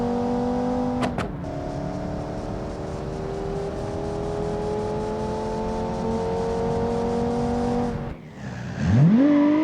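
A 1982 Viper concept car from the Automation game drives with a steady engine drone whose pitch slowly rises as it accelerates, then cuts out and revs briefly at the end, with no voices.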